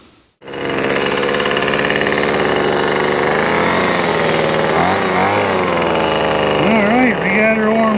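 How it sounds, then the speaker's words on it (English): A gas-powered blower engine starts up and runs steadily beside a pond, a loud continuous buzzing drone with dense harmonics that shifts pitch near the end as the throttle changes. "So let's go fire up that blower and spread some more of that stuff."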